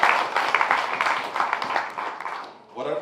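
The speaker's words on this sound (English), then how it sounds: "I would like to give them especially a round of applause." Audience applause at a health care gala on St. Eustatius honoring medical center staff: dense, sustained clapping from a crowd that fades near the end before a voice begins to speak.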